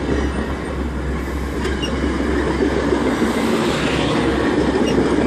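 A Metra commuter train at Grayslake station rumbles past up close, a loud, steady roar of wheels and rail noise with faint squeals throughout.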